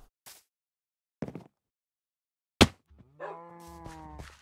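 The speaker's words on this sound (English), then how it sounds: "Am I allowed to kill these cows?" Cows mooing in the video game Minecraft: a drawn-out, harmonic moo near the end follows a few short sharp game sounds, with no talking.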